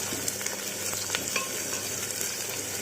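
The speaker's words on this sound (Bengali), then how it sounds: "পেঁয়াজটাকে লাল করে ভেজে নেব" Onions fry in a pan for pressure-cooker pulao, a soft steady sizzle with occasional stirring scrapes and clicks, close and fairly quiet with no talking.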